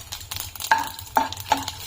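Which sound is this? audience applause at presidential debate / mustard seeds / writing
mustard seeds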